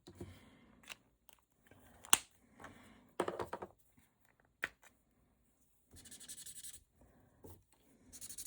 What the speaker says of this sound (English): I'm coloring these just like I did on the front